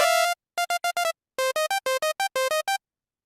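Serum synthesizer init preset, a plain buzzy sawtooth-like tone played as a quick staccato sequence of short notes at shifting pitches, dry and clean with gaps of silence between phrases.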